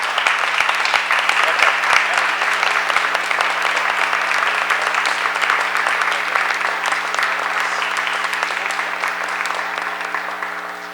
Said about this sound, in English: Ladies and gentlemen, a round of applause, please, for Emily Navat